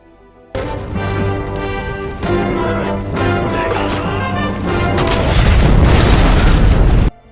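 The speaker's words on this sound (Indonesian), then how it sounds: "Gan Ning dengan gagah berani maju untuk meledakkan gerbang utama meskipun dia harus" An explosion blows up the main gate in a Chinese war film, heard as loud booms and crashing impacts over a dramatic musical score that swells and builds to a dense roaring climax before cutting off.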